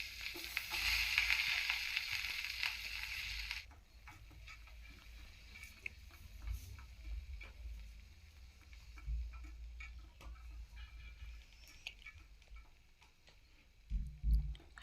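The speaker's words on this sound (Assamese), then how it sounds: "পিঁয়াজখিনি ভালদৰে ভাজি ল'ম এতিয়া" Chopped onions and fenugreek seeds fry in a pan, a bright, steady sizzle for the first few seconds that then fades to a quiet simmer with light scattered ticks and clinks.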